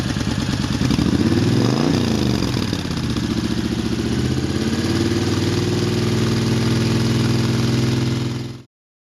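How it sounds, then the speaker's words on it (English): A 2010 Honda Fury motorcycle with stock pipes and internal engine mods idles in a garage, a steady close-up rumble with a brief rev near the start, then settles back to an even idle before cutting off. "it's got a little deeper rumble and better sound, in my opinion, than the stock pipes"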